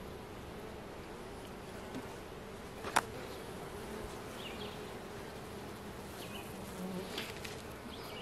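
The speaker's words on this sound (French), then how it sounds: "J'aimerais ça vérifier l'état d'occupation de la ruche de la Reine Helle" A steady, dense hum of many honeybees buzzing together at their hive, close and continuous, with one sharp click partway through.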